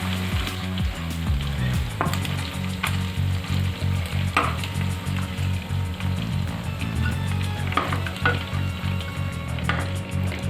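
Chicken skin sizzles steadily in hot oil for a few minutes of frying, a dense, continuous crackle close by with a low rhythmic backing tone underneath and no talking.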